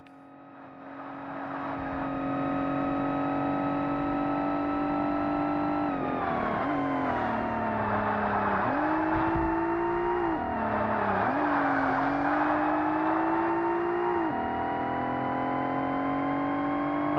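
A race car engine from the original Forza Motorsport on the first Xbox drones continuously and loudly, its pitch holding steady, dipping and climbing through several gear changes with no talking over it.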